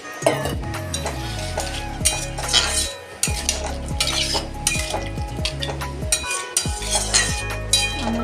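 Boiled potatoes and eggs being stirred as they fry in a pan, with a loud continuous sizzle and frequent rhythmic clinks and scrapes of a spoon against metal.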